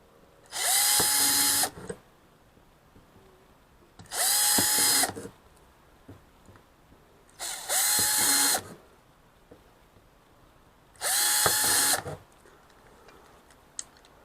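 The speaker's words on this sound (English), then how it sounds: "Drill the 4 holes, which I'm fixing to go ahead and drill the 4 holes." A power drill bores holes in a Lifetime Tahoma kayak, four loud bursts of whining motor about two seconds each, separated by quiet pauses.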